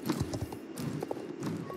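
A horse gallops across a frozen lake in a north valley, hooves striking in quick uneven clip-clop beats, moderately close and fairly quiet.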